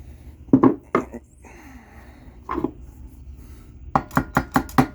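Several sharp metallic taps from a hammer on a Predator 212 engine part, a few scattered early and then a quick run of five evenly spaced strikes, close by with quiet pauses between.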